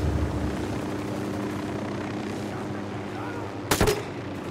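A helicopter in Ghost Recon Wildlands drones with a steady rotor and engine roar that fills the scene, broken near the end by a sharp burst like gunfire.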